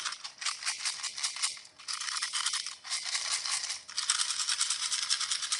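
Small tarot charms are shaken and mixed by hand, a steady close rattling and clinking in repeated bursts with brief pauses, no talking.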